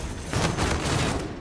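Shotgun fire in Infinite Warfare multiplayer gameplay, a dense burst of rapid overlapping shots and explosive noise, loud and continuous over a short stretch with no voices.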